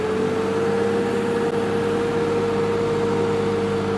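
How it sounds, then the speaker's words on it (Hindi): A tractor engine drones steadily under heavy load while working a wet, uneven farm field, a constant loud hum that holds one pitch throughout with no pauses. "ज़मीन कहीं गिल्ली ज़्यादा है और कहीं सही है, तो उस वजह से ट्रैक्टर का भी जोर थोड़ा सा ज़्यादा लग रहा है"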